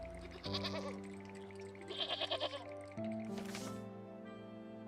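A ram bleats a few times in the video game Wytchwood during shearing, short wavering cries over a soft looping music bed, fairly quiet.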